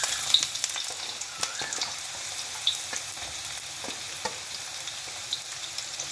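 Chopped onion sautés in oil in a pan for budget mi goreng, a steady soft sizzle with faint crackles and light stirring scrapes, close and alone without talk.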